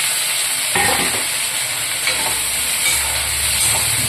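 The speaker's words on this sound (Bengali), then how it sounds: "আলুগুলো বেশ ভালোভাবে ভাজতে হবে" Potatoes frying in a pan of oil while cooking water spinach, a steady broadband sizzle with a few stirring scrapes, close and continuous with no talk.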